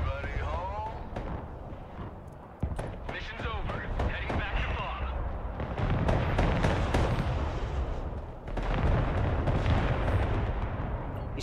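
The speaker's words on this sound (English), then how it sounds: "Still bombing the objective" Bombing of an objective in the military strategy game Broken Arrow brings a dense barrage of heavy explosions and artillery-like blasts, rumbling continuously with gunfire crackle, while a voice talks over parts of it.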